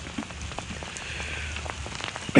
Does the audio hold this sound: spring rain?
yes